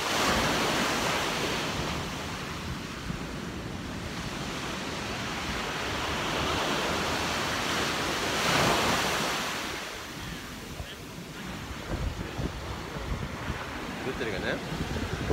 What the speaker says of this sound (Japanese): ちょっとじゃあカリブ海を堪能していただきます。